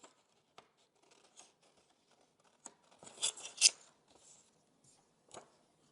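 Short snips of scissors cutting paper around a black outline at a children's craft workshop, scattered light crunches and rustles with a brief cluster of louder, closer cuts in the middle; no voices.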